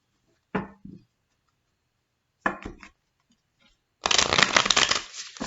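Three bursts of tarot cards being shuffled, two short riffles followed by a longer, louder continuous shuffle, close up with no talking.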